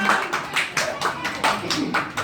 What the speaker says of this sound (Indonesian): mari kita beri tepukan tangan